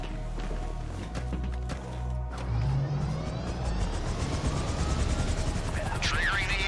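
A helicopter from a GTA Online apartment heist holds position, its rotor thumping steadily under game sounds, with a rising whine and other effects partway through.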